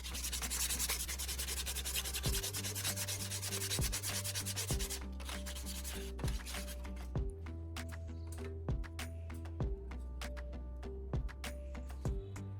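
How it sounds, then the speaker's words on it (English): Steady abrasive scrubbing of a rusty knife blade, a continuous rough rubbing that runs loud at first, then thins into rhythmic strokes over a repeating background tick. "I'm continuing to scrub the entire blade thoroughly."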